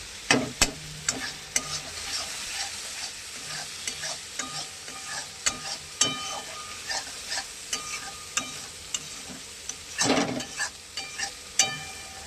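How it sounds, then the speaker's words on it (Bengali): Ground chilli powder and spices sautéed and stirred in a pan, with a steady soft sizzle under repeated scraping and clattering strokes of a spoon against the pan, no talking. "কষাতে থাকছে, কত সুন্দর কালার আসছে দেখুন যত নাড়াচাড়া করবে"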